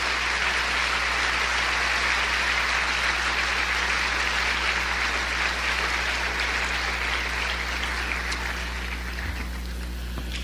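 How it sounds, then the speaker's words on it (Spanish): A church congregation claps steadily for several seconds, a dense, even wash of applause that thins slightly toward the end, with a low hum underneath. "Dele un aplauso al Señor."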